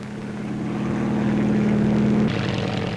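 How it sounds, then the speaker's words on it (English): A Saunders Roe Skeeter two-seat helicopter flies at the Farnborough airshow, its engine drone rising to a steady loud tone that shifts abruptly as it passes. "The Skeeter helicopter is a 2-seater made by Saunders Roe"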